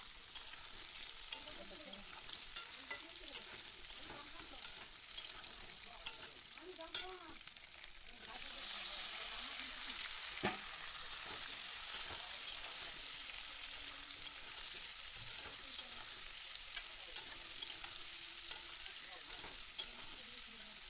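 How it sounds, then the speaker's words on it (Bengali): Bottle gourd greens with ginger, garlic, onion and cumin frying in a pan, a soft sizzle that swells louder midway, with light stirring taps and scrapes punctuating it. "এই দেখো মশলা কষাচ্ছি"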